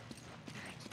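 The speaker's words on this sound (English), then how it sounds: "The horse is here." Horse hooves in the video game Resident Evil 5 give a few quiet, evenly spaced clops over about a second, faint against a soft ambient background.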